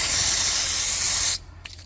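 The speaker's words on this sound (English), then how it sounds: "our electronic cleaner to clean these things" Electronic cleaner sprayed onto Mercedes W220 S500 transmission parts, a steady, loud aerosol hiss lasting over a second before cutting off abruptly, followed by faint handling noises.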